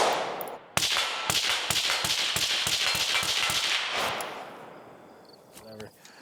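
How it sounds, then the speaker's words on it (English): Rifle fired through a SIG Sauer Hexium 556 Ti suppressor into dirt, a rapid string of about a dozen sharp cracks in quick rhythm, then tapering off into quiet with a faint metallic clink near the end. "I'm gonna dump a few into the dirt so you can hear just the can."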